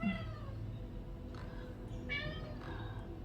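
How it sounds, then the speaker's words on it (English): A house cat meows a few times, short rising calls spaced over a few seconds against a low steady background hum, fairly faint and with no talking. "Excuse the cat meowing."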